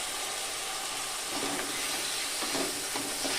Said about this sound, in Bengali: এবার আমি কেটে রাখা আলুগুলো দিয়ে দেবো